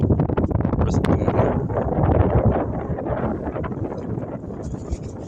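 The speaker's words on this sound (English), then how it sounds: "The wind is really kicking up now" Strong wind buffets the microphone outdoors beside the Riverside swinging bridge, a loud, steady roaring rush with gusty swells that fills the whole clip.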